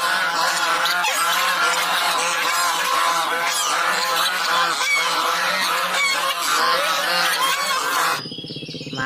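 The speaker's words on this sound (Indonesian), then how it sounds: "ada hewan angsa" Geese honk loudly and continuously in a dense, overlapping chorus of harsh nasal calls that fills the whole stretch before cutting off abruptly near the end.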